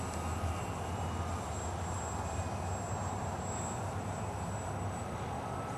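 Park Zone F4U Corsair RC model airplane flying at half throttle, a steady, moderately faint motor drone with a thin high whine holding constant throughout.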